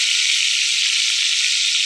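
Green chilies fry in hot oil, giving a loud, dense and continuous sizzle that stays even from start to finish, with no voices.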